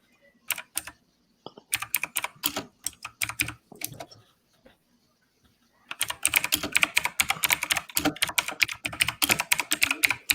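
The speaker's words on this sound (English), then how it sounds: "My loud ass keyboard." Loud computer keyboard clacking in quick bursts, sharp clicky strokes broken by short pauses, then a dense uninterrupted run of typing, close and alone.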